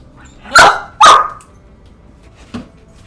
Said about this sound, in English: No bark. No barking.